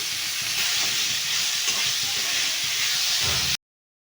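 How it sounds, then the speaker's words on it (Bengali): Dried lote fish paste frying in a pan while being stirred, a steady close hiss with soft scraping movements throughout, cutting off abruptly near the end. "এভাবে নাড়িয়ে নিয়ে একটু কষিয়ে নিতে হবে।"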